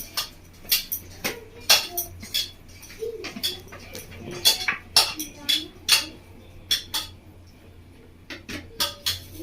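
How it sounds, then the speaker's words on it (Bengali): Chicken being mixed by hand with dark soy sauce in a metal dish, giving a run of sharp clinks and taps against the bowl in an irregular rhythm, close and fairly loud, with quiet background between hits. "চিকেনের মধ্যে দিয়ে দেবো আমি ডার্ক সয়া সসটা দিয়ে ভালো করে চিকেনটা মেখে নেবো"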